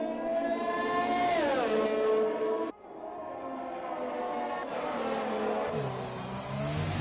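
Race car engine at Monaco in the GP4 racing game heard on board during a lap, a loud sustained high-pitched whine rising and falling with gear changes and a sudden drop midway, no talk over it.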